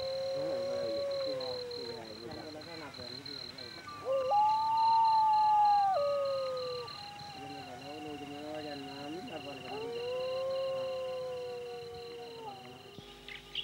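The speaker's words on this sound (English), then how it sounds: "In the distance, a dingo howls." A dingo howls in the Australian bush at night in long, wavering drawn-out notes, rising and falling several times, fairly faint and distant over a quiet background.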